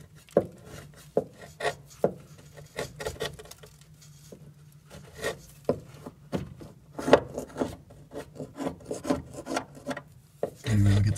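Old flaky seam sealer being scraped off the metal heater box of a 1966 Dodge Charger, a series of short dry rasping scrapes and taps at an uneven pace, close up, with a louder rumble at the very end.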